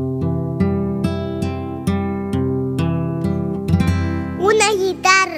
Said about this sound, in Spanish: es una guitarra